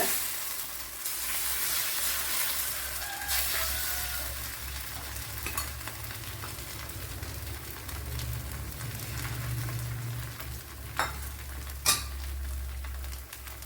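Dal rava dosa batter frying in oil on an iron pan, with a continuous close crackling sizzle and occasional scraping or clinking of a utensil, fairly quiet overall.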